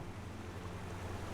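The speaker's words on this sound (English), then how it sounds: "I like the waterfall." Steady broadband rush of a waterfall in a puzzle video game inspired by The Witness, a continuous even roar with no breaks, moderately loud and heard alone.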